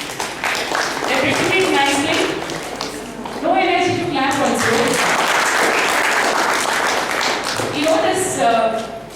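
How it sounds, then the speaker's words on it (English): Students in a pathology lecture hall clap in a round of applause while a voice talks intermittently over it, the clapping building, dipping and swelling again across the stretch. "So big round of applause to them."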